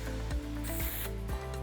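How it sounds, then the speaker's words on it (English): Heavy duty spray glue hissing from an aerosol can onto a dining chair seat pad being reupholstered, a short close burst of spray with faint tool rustles around it. "using spray glue, some heavy duty spray glue"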